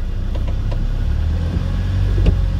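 A car engine held steadily at around 1500 to 2000 rpm during a driving lesson on a snowy day gives a continuous, even low hum with no talking.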